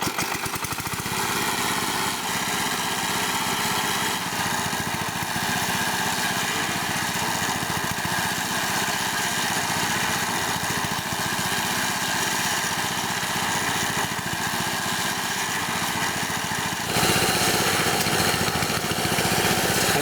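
Small engine-driven well-drilling rig spinning a drill bit hung from a rope at a house build in the Philippines: a continuous, steady buzzing engine drone throughout, slightly louder near the end.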